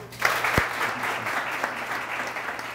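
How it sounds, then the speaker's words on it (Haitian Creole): An audience at a public forum on life in precarious neighbourhoods breaks into sustained applause, a dense, even wash of clapping that carries steadily throughout, with no voices standing out. "Et maintenant nous tous applaudis Blanc Guy Michel."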